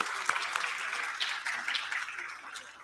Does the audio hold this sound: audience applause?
yes